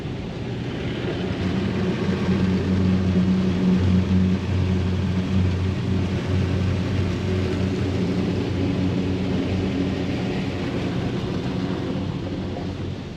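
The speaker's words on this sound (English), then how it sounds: "got nice good sprayers in here. Give it a good pre-rinse, especially along the tires and along the bottom." Pressure sprayers in a car wash bay pre-rinse a car along the tires and lower body. A loud, steady hiss and rumble of water spray drums on the vehicle the whole time, with no voices.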